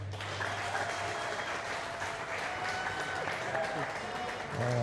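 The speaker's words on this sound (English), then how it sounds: "Yankee fans, give me a round of applause" Yankee fans in a room at a high school baseball championship celebration clap steadily, a moderate, even patter of applause from a crowd that holds throughout with a voice rising briefly near the end.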